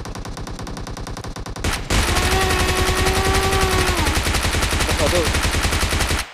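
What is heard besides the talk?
gunfire in the video game PUBG Mobile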